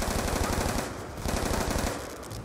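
Rapid automatic fire from an MTAR assault rifle in the video game Call of Duty Black Ops 2, a loud sustained burst that briefly dips and resumes.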